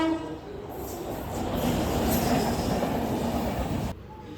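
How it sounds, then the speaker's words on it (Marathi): A fast mail train rushes through an Indian station platform, a loud close roar of wheels and wagons with rattling and a faint horn tone, cutting off abruptly near the end as the last coach clears. "आणि तेवढ्यातच इथून एक मस्त फास्ट मेल पास झाली."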